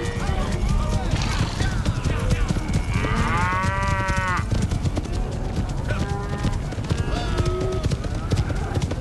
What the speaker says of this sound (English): Sick of these stinking cows.